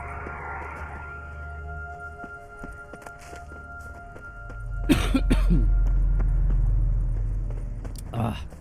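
Two harsh coughs ring out close by, one mid-clip and one near the end, amid light clattering and jangling noises.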